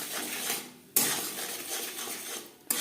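Tilapia pieces being mixed with salt and turmeric in a pan, heard as soft scraping and stirring with two sharp metallic clinks of utensil against the pan, fairly quiet and close.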